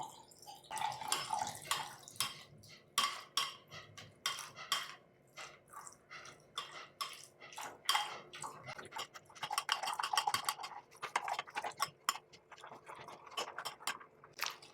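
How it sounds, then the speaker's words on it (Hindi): Distilled water solution poured slowly into a phenyl mixture, heard as steady trickling and dripping with irregular splashy ticks throughout, moderately close and without talk. "उसके अंदर हम ये डिस्टिल वाटर जो है सॉल्यूशन हमने बनाया वो आस्ते आस्ते करके डालेंगे"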